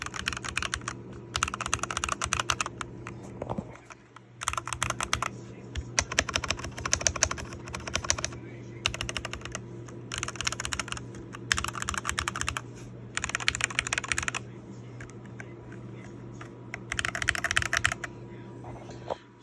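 Rapid typing on a mechanical keyboard with linear switches comes in bursts, with smooth, muted keystrokes separated by short pauses and a low hum underneath.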